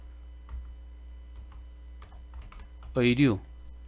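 Light, scattered keystrokes on a computer keyboard as a category name is entered into an online shopping mall admin page, with faint ticking clicks over a low hum and a short burst of voice near the end.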